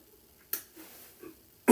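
Single short cough bursts out near the end, preceded by a smaller throat noise and soft breathy sounds in a quiet room.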